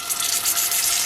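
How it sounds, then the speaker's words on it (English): A glug of olive oil poured into a super hot pan on the stove gives a brief, bright liquid rush and light sizzle, close and fairly loud, with no one talking. "A little bit of olive oil."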